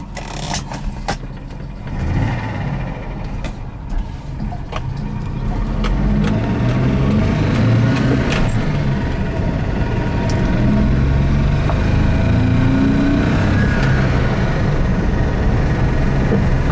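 A Volvo 264 GLE with a manual gearbox hums along on a test drive, its engine note rising steadily as it accelerates, with road rumble and a few light clicks, and no one talking.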